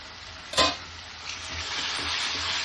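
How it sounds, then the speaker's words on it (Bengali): Chopped green chilies fry over a high flame in a pan for a mushroom masala, a loud, steady hiss of sizzling oil that carries on after a single sharp clink of a utensil near the start. "দিয়ে দিচ্ছি অল্প কাঁচা লঙ্কা কুচি, দিয়ে ফ্লেমটা হাই করে দিয়ে কয়েক সেকেন্ড ভেজে নেব।"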